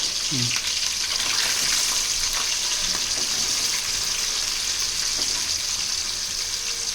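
Onions fry in a pan for a home-cooked fish curry, a constant dense hiss of sizzling oil heard close up with faint clatter and a brief murmur of voice early on.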